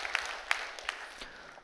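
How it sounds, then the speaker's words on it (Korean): Faint, scattered applause from a church congregation, a few sharp individual claps standing out over a soft spread of clapping that thins out toward the end. "위로의 박수 한번 해주시면 고맙겠습니다."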